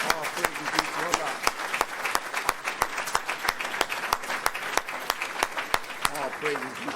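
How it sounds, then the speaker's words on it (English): Steady applause from an audience at a religious gathering, dense clapping with sharp individual claps standing out, sustained and fairly close throughout, with some faint voices mixed in. "Let's give them a warm round of applause."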